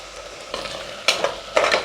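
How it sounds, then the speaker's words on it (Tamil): Coconut paste being sautéed in a pan for mutton paya (attukal paya), with a steady sizzle under three louder stirring scrapes at about one-second intervals, close by and with no talk. "அதையும் சேர்த்து நல்லா வதக்கிக்கோங்க."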